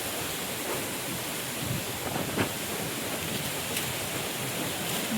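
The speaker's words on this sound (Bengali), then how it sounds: "বৃষ্টি সেরকম নেই, ঝোড়ো হাওয়া প্রচুর একটা" Strong, gusty storm wind blows outdoors with little rain falling. It makes a steady, moderately faint broadband rush that swells slightly in places, and no one speaks.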